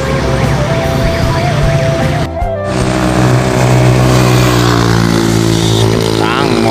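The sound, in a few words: motorcycle passing fast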